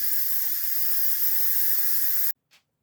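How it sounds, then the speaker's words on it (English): An Instant Pot vents steam in a loud, steady, broadband hiss that continues unbroken for over two seconds, then cuts off abruptly, followed by a brief faint knock. "We're going to shut it off. Release the steam."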